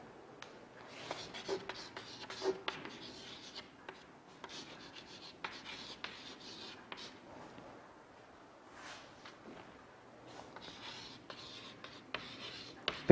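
A pen writing page numbers on paper, with steady close scratching strokes in short runs and pauses, quiet, and no talk over it.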